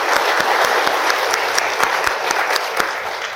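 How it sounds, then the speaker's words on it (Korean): An audience at a Catholic parish book concert gives a loud, sustained round of encouraging applause, with dense clapping that holds steady throughout and a few sharper claps standing out. "일단 용기의 박수 한번 주시죠."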